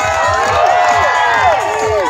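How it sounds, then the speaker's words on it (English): A crowd cheers and shouts at a lumberjack show while competitors race at log rolling, a loud, continuous wall of voices with rising whoops layered throughout. "Keep cheering them on, folks."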